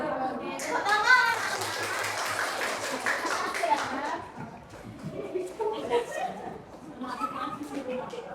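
A group of children clap their hands in a classroom, a lively patter of many small claps rising after a spoken count, then fading into chatter and scattered voices.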